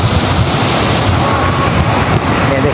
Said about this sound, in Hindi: ये देखिए गाइस समंदर का माहौल